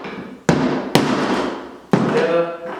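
Wooden pieces of giant handcuffs knocked onto dowels, three sharp hollow thuds spaced about half a second to a second apart, close and loud, each ringing briefly.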